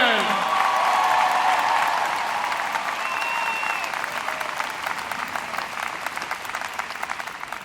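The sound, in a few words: audience applause for the valedictorian at USC commencement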